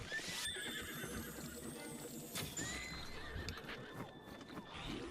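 Horse neighing in the video game Breath of the Wild, a loud whinny rising over a busy background of hoof clip-clop and game ambience, with another shorter neigh partway through.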